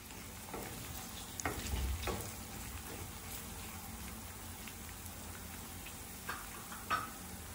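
Onion slices and curry leaves frying in a pan with ginger-garlic paste for a cauliflower egg curry, giving a steady soft crackling sizzle with a few louder stirring scrapes, no voices.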